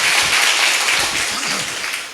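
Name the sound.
audience clapping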